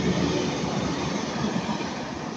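A Transport for Wales Class 197 diesel multiple unit passes on the Cardiff to Manchester Piccadilly service near Ardwick, giving a loud, steady rumble and rail roar throughout with no speech.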